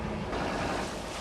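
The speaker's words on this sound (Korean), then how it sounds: "파도가 생각보다 거칠자" Rough open-sea waves surge around an Indonesian tuna fishing boat, a short, loud, continuous wash of water with wind buffeting the microphone.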